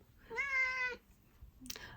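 A house cat lets out one clear, drawn-out meow close by, followed by a short chirp, over a quiet indoor background.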